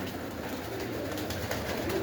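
Several purebred pigeons in a loft coo steadily and softly, a low continuous murmur with faint rustling, no talking.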